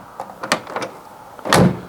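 A faulty door on a Rover P4 gives a few light clicks and rattles before it is slammed hard, with one loud, close thud near the end.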